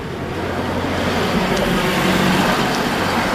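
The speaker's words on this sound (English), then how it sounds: "Ooh, a 6-cylinder powered long wheelbase Econoline" A six-cylinder long wheelbase Ford Econoline van passes on Rue Rachel in Montreal's Rosemont borough, a dense, steady roadway rumble that rises slightly as it approaches, heard from the sidewalk amid general traffic noise.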